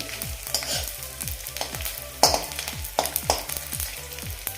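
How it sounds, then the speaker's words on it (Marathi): Edible gum (dink) frying in ghee for fenugreek laddoos, a close crackling sizzle with a regular series of stirring scrapes and a few sharper clinks against the pan, no one talking. "थोडा थोडासा तळल्यामुळे डिंक व्यवस्थित फुलला जातो आतपर्यंत शिजला जातो त्यामुळे थोडा थोडासा डिंक आपण तळायचा आहे"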